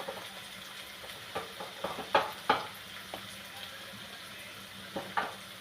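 Fish coated with turmeric and spices is stirred in a pan, giving a soft sizzle and scattered scraping clicks from a spoon that bunch up in the middle and return near the end.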